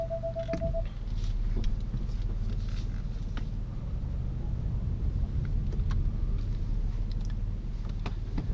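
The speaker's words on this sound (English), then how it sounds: "let's see how she drives in this mode" An Alfa Romeo Giulia Quadrifoglio cruising in advanced efficiency mode, a steady low engine and road rumble heard from inside the cabin, continuous and moderately loud with faint creaks and no talk.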